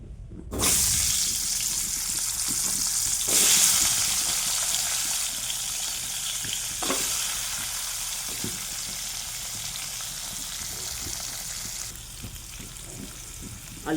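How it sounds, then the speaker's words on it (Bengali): Potatoes sizzle steadily in hot oil in a pan while cooking an egg and pointed gourd curry, a loud continuous hiss with a few sharp crackles and scrapes. "এবার আলুটা ভেজে নেব।"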